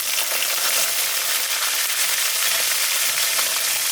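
Whole spices and garlic cloves fry in hot oil in a pan as the base for a Tamil chicken green curry, giving a steady close bright sizzle throughout with no talk.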